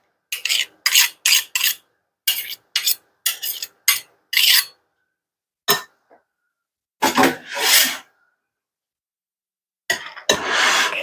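A spoon stirs and scrapes through macaroni salad in a bowl, a series of short raspy strokes in quick rhythm, then a pause and a few longer scraping passes, close and fairly loud with no talking.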